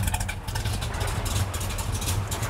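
A 1967 Chevrolet Chevelle with a 454ci V8 idling around 800 RPM, a loud, close, steady low rumble with an even lumpy pulse and no voices.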